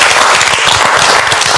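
A studio audience on a Macedonian cooking reality show applauds loudly and continuously, close, dense clapping filling the whole moment without speech.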